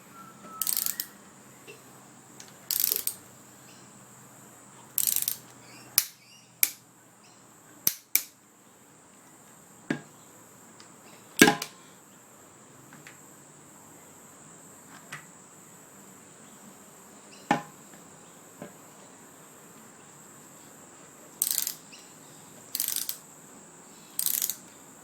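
A torque wrench set to 20 newton meters tightens bicycle handlebar pinch bolts. Sparse sharp clicks and short ratcheting bursts are separated by long quiet gaps, close up in a calm room.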